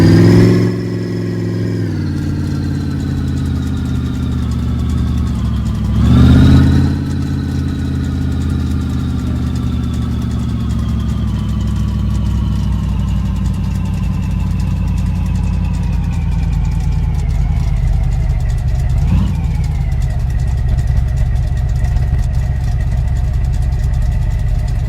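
A Ford Focus engine pulls steadily in first gear, a continuous mid-pitched drone whose note sinks slowly over time, with a brief surge near the start and another near the end, close and fairly loud.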